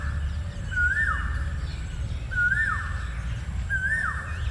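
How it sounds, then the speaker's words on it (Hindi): Birds on the grounds of an agricultural science campus give three evenly spaced, rising-and-falling whistled calls over a low background rumble, clear and fairly near, with no one talking. "एक अच्छी चिड़ियों की मतलब गुनगुनाहट"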